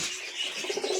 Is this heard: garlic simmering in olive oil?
no